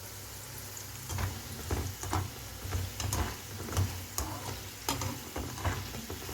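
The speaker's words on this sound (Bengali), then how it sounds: "একটু কড়া করে ভেজে নিব এখন" Pieces of gaja dough deep-fry in hot oil, a steady close sizzle with regular soft stirring or turning taps about once a second, no voices.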